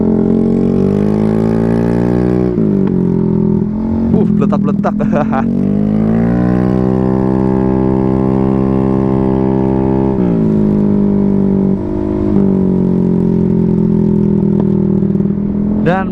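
An automatic scooter with an SC Project full-system racing exhaust idles loudly up close and is revved a few times. The pitch rises and falls in swells, and a brief spoken remark cuts in.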